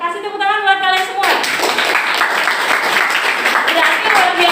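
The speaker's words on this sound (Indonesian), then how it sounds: "Kasih tepuk tangan buat kalian semua." Students clap together in a classroom, a burst of close, lively hand clapping that follows a brief spoken voice and carries on steadily for several seconds.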